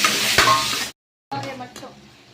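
Tomatoes are tipped into a frying mutton gravy and stirred, making a loud sizzle with a scraping stir. The sound cuts to a short silence, then the sizzle comes back softer and fades.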